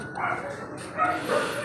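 Dog barking nearby in short, yipping bursts, two or three quick barks within a couple of seconds over faint background noise.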